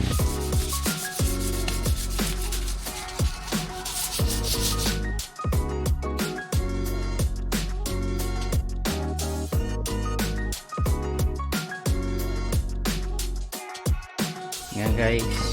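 Metal is hand-sanded with 400-grit sandpaper during a repaint and restoration, in brisk, repeated rubbing strokes that scratch rhythmically and loudly close to the listener, with short pauses between passes.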